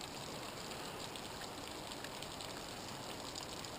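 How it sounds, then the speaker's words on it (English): A roadside waterfall runs off the rainforest and down over rocks beside WA 165, a steady, even rushing wash that stays constant throughout, faint and with no voices. "There's just water coming off of the rainforest. And it comes down off the rocks."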